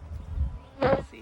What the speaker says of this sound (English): That's kind of hard when there's bees flying in your face.